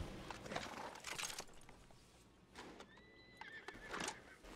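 A horse in the Red Dead Redemption 2 Online video game neighs and whinnies a few times, faint and distant, with soft hoof clip-clops between the calls.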